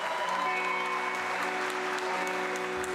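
Audience applause for a tribute act, steady clapping running beneath sustained music tones as a 1961 song begins, moderately loud and continuous throughout.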